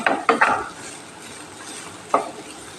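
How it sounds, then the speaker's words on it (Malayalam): A spoon scrapes and taps against a pan, a few quick strokes then another later, stirring a coconut and jaggery mixture over a soft background sizzle. "അപ്പം നന്നായിട്ട് ഇതൊന്ന് മിക്സ് ചെയ്യാം"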